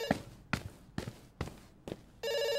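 In the video game Dr. Langeskov, The Tiger, and The Terribly Cursed Emerald: A Whirlwind Heist, a telephone bell rings in five evenly spaced bursts, moderately loud, before a steady electronic tone takes over at the end.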